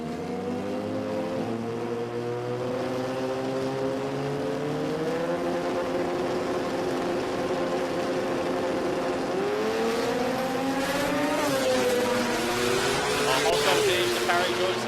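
Double-rotor rotary-engined drag cars race down the strip at the Garrett Brisbane Jamboree, a steady buzzing engine drone with a rising pitch sweep toward the end, heard at a distance under a continuous commentator's voice.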